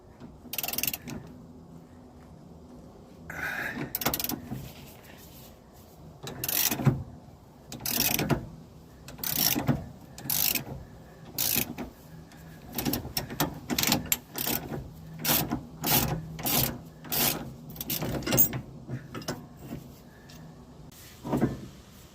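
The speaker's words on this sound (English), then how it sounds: "Now slide the puller in place and tighten it down." A puller is slid into place and tightened on the Pitman arm of a Jeep Cherokee steering box. A wrench or ratchet clicks and clanks in bursts of sharp metallic ticks, with scraping in between. The sound is close, and no one speaks.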